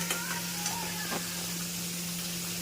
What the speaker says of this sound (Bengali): আগে একটু আলুটা আর পেঁয়াজটা দিয়ে দিচ্ছি। এটা একটু ভাজা ভাজা হতে থাকুক।